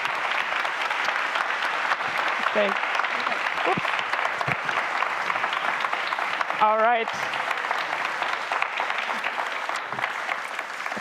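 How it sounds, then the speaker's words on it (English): Steady audience applause after an all-female conference panel fills the whole stretch, dense and sustained, with a voice speaking briefly over it. "let's give a nice round of applause"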